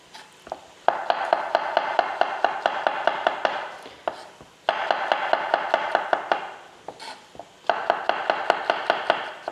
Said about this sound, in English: I'm just going to slice about 250 grams of mushrooms.